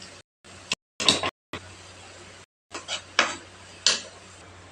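A lid is set down on a cooking pan holding banana flower stir-fry in a home kitchen. Several short metallic clanks and taps ring out between quiet gaps.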